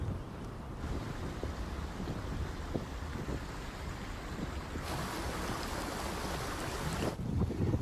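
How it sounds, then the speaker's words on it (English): A waterfall on open moorland gives a steady, broad rushing roar throughout, mixed with gusts of wind across the microphone. "So there's the waterfall behind me."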